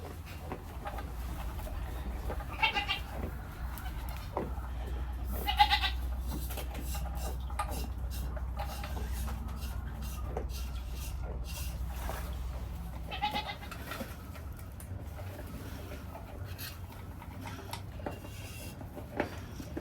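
A goat bleats a few times, scattered and moderately near, over a low steady hum with faint background clatter.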